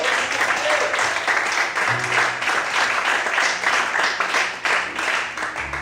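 Worshippers in a church service clap for the Lord, a sustained, lively round of many hands applauding over a low organ-like hum, with scattered voices calling out among the clapping.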